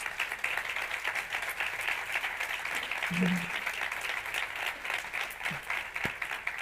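Steady applause from an audience at a tourism conference talk, continuous clapping at moderate volume with a brief voice sound partway through.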